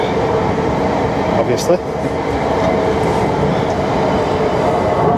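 Train passing on the railway bank behind a carp fishing lake at Wraysbury, heard as a steady, loud rumbling roar throughout, with someone talking over it.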